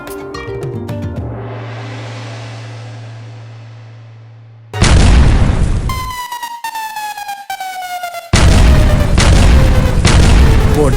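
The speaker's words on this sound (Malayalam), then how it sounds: "പ്രശസ്ത കമ്പനികളുടെ ഗുണനിലവാരമുള്ള പടക്കങ്ങൾ" Branded firecrackers go off in loud, sharp bursts and booming cracks, with whistling tones gliding downward between the blasts.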